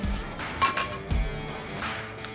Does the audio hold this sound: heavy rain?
no